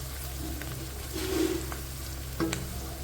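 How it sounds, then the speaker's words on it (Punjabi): Garlic and onion frying in a pan for an aloo shimla mirch sabzi, a low continuous sizzle with a couple of brief louder bursts as the food is stirred, close and without speech. "ਲਓ ਜੀ ਆਪਾਂ ਲਸਣ ਤੇ ਪਿਆਜ਼ ਇਹ ਚ ਪਾਤਾ ਆ ਤੇ ਥੋੜਾ ਜਿਹਾ ਭੁੰਨ ਲਿਆ ਆਪਾਂ"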